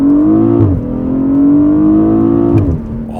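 A BMW 840i Gran Coupe accelerates hard from inside the cabin, its engine droning upward in pitch, then dropping sharply at two quick gearshifts before climbing again. The sound is loud and close.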